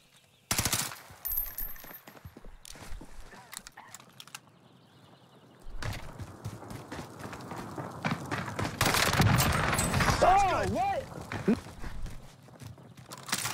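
Gunfire rings out in a Modern Warfare battle royale match: a loud opening burst of rapid shots followed by scattered single cracks, then a denser stretch of firing and rumbling action, with players talking throughout.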